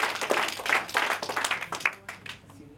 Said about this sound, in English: Let's give these people a big round of applause.